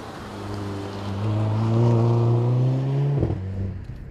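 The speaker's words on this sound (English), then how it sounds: "You get these massive cracks on the upshift, which are so exciting." A Mercedes-Benz A45 AMG or BMW M135i engine revs up and holds a steady drone, then a sharp crack pops from the exhaust on the upshift, close and fairly loud.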